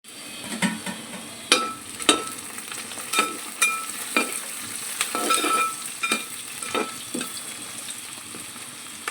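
Chicken fries in coconut oil in a pan over a wood-fired stove, giving a steady close sizzle with repeated sharp scrapes and clinks of a spoon stirring against the pan.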